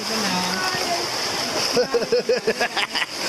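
River rapids splash and churn around body rafters at Pangandaran, while excited whoops and voices ring out over the rushing water.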